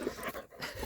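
A dog panting close to the microphone, quick rhythmic breaths repeating through the short moment, alone with no talk.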